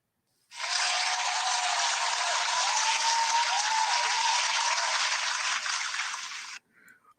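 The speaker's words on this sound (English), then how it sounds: "let's applaud." A crowd claps in a steady, dense burst for about six seconds before it cuts off abruptly into silence.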